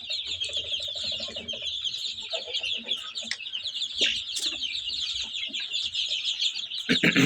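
Many young chicks on a small farm peep in a dense, continuous high-pitched chorus, close and busy, with occasional louder cheeps and faint low clucking beneath.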